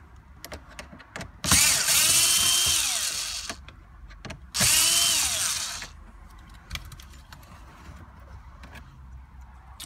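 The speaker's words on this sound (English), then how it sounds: "there's a 3rd Phillips screw right there that you need to get out" A cordless power driver backs a Phillips screw out of a Honda Insight dash bezel, whirring loudly in two close bursts of about two and a half seconds each, with small clicks and handling noise between.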